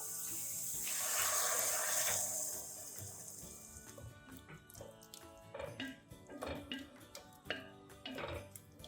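A cup of water pours steadily into a pot of breadfruit curry for a couple of seconds, a bright splashing rush, followed by softer clinks and kitchen sounds.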